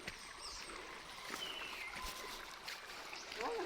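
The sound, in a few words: flowing stream near Lukob cave, Toledo City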